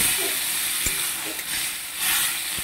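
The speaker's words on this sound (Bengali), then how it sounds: "অল্পখানি আমি জল দিয়ে দেবো।" A little water goes into a sizzling pan of chana masala, producing a loud, steady hiss and sputter with a few faint clicks.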